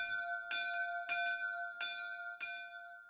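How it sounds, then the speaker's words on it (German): A single church bell rings the quarterly peal for the miners' quarter in the Erzgebirge, striking about five times at an even pace with a bright, lingering ring, alone and moderately quiet. "An besagtem 25. Mai erklang die Glocke zum 2. Mal in diesem Jahr zum Bergquartal."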